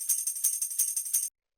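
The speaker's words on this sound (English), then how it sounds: "it's just this like kind of fast tambourine loop here" Fast pitched-up tambourine loop in a liquid drum and bass production, bright rapid jingle hits in steady rhythm that cut off abruptly, fairly quiet and alone.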